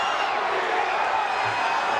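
A crowd at an MMA fight in Lake Charles, Louisiana roars steadily, a dense continuous wash of cheering heard from within the arena without distinct breaks.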